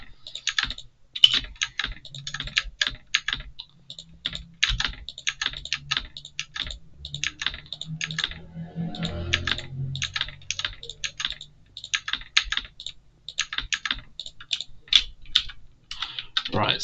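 Loud clacking computer keyboard typing rattles in quick irregular bursts at close range, with a brief low murmur of speech partway through.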